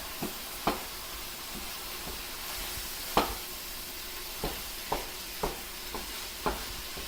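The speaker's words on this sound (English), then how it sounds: "you're going to give this a very good stir" A spoon stirs spiced ground beef kheema in a frying pan, with sharp scrapes and taps every second or so over a soft, steady sizzle.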